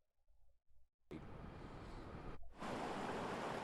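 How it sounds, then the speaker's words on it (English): Broadband rushing water and wind noise from the flooded Saddle River at nightfall in Lodi, cutting in abruptly after a near-silent start, steady and loud with a brief dip before surging louder. "The gurgling of the Saddle River was just about the only thing you could hear by nightfall in Lodi, aside from the whipping winds."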